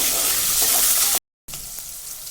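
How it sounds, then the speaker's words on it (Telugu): Green chillies and curry leaves fry in about two tablespoons of hot oil for a dry fish curry, a loud steady bright sizzle that cuts out briefly partway, then resumes as strongly. "ఆయిల్ వేడవగానే పచ్చిమిర్చి కరివేపాకు వేసి కొద్దిగా ఫ్రై చేసుకోవాలి"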